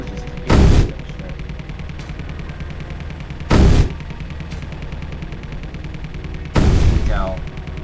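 A heavy ship-mounted gun in Space Engineers fires three separate loud booming shots a few seconds apart, each a short powerful blast over a steady low mechanical hum.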